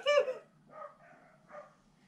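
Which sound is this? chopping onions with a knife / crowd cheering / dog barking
dog barking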